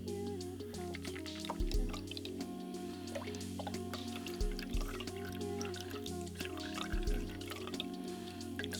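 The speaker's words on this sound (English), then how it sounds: "Because then you can pour out most of the contents." Liquid trickles and drips slowly out of a cocktail shaker while a mocktail is made, with small splashes repeating over a steady tonal background hum.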